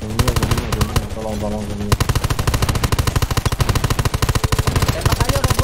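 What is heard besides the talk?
gunfire shooting at a robot in the video game Undawn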